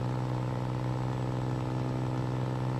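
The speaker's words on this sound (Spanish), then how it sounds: "Viene furgoncito acelerando." A small van accelerating behind a truck in Euro Truck Simulator 2, heard as a steady, loud engine drone with a constant low hum and faint clatter, continuous with no speech.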